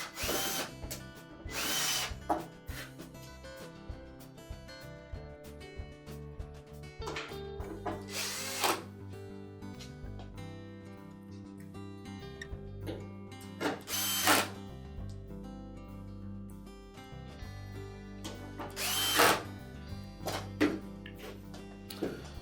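A power drill drives retaining screws into a Maytag dryer during a blower wheel repair, with several whirring bursts that rise in pitch as each screw seats. Short pauses fall between the bursts, and there is no talking.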